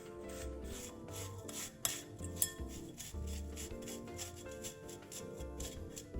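Powdered sugar being stirred into cooking oil with a spatula or whisk for mung bean almond cookies: a steady, soft rubbing and scraping that continues throughout over a tonal background hum.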